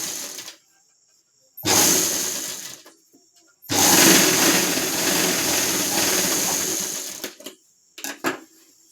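A sewing machine stitches the sleeve joint of a blouse in two loud, steady whirring bursts, a short one then a longer run, separated by silence and followed by a few small clicks.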